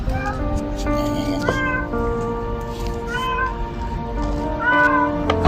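A trapped cat meows from down inside a deep manhole, giving several loud, drawn-out wails with short gaps between them. The calls echo and carry clearly over a low background rumble.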